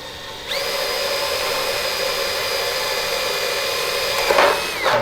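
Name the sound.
drilling holes in battery tray with a drill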